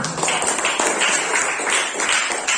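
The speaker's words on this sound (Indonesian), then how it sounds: "Oke, tepuk tangan dulu." A classroom of students claps hands together in a short, dense burst of applause, steady and fairly loud throughout, with no talk over it.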